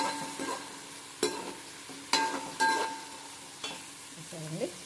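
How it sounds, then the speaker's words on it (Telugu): Onion and green chili frying in hot oil with mustard seeds, cumin, fenugreek and a little urad dal, a continuous sizzle broken by several sharp stirring scrapes of a spoon against the pan, close and clear. "నూనె, ఆవాలు, జీలకర్ర, మెంతులు, కొంచెం మినపప్పు, తర్వాత ఎర్రగడ్డలు, పచ్చిమిరపకాయ వేసాను."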